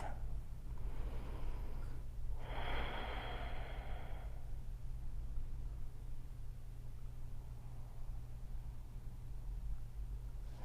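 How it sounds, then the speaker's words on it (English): Two soft breaths in a quiet yoga session drift over a steady low hum, the second a longer, airy exhale, with nothing else in the room. "And then you'll just breathe here"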